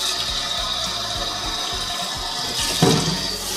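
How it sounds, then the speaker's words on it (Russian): Cold tap water runs steadily into a container for beef tongue pastrami marinade in a home kitchen, a continuous broadband rush with a brief louder splash near the end. "сейчас мы наберем немножко воды."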